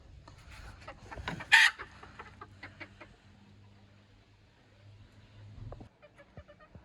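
Domestic chickens, a rooster and hens, in a home yard: a brief loud cluck or squawk stands out early, followed by soft intermittent clucking and low rumbling background noise.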